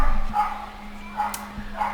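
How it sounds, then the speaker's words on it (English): Dogs barking outside an open window, a few short, distant yips and barks spaced apart over a steady background hum, with a voice present in the scene. "I apologize for dogs barking"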